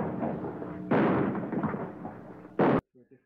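Gunshot sound effects previewed in a game-maker tool: a sustained blast-like burst, then a second sharp, loud shot that cuts off abruptly into near silence, with a brief faint fragment after it.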